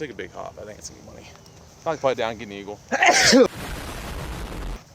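A man's sneeze bursts out loud and close on a golf course, following a stretch of casual talk among golfers about a putt.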